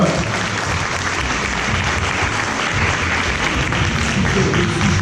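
An audience at a Christmas magic show applauds loudly and steadily, a dense wash of many hands clapping that holds without a break for several seconds.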